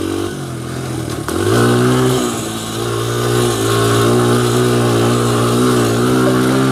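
A 2001 Honda XR100R motorcycle engine revs up sharply and holds a loud, buzzing high idle with small dips and surges, close by and without speech.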